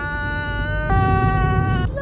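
A screaming device reacting to a sharp turn in a fast race car: a sustained, pitched wail that jumps higher partway through and again near the end, loud and close, with engine rumble beneath.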